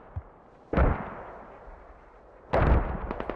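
Two distant mortar impacts from enemy fire in the Squad video game, a heavy thud, then a second crack with rolling echoes after a quiet pause.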